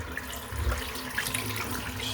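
Tap water runs steadily into a bathroom sink while rinsing during a wet head shave, a close, continuous low wash with a slight splash bump partway through.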